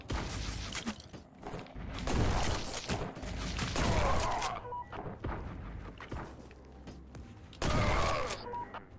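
Gunfire in the game Forgive Me Father 2 comes as dense, repeated blasts and thuds throughout, loud and close, with heavier bursts near the middle and end.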